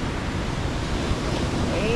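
Large ocean waves during a strong typhoon surge in a steady, roaring wash of surf with wind buffeting the microphone, continuous and loud throughout.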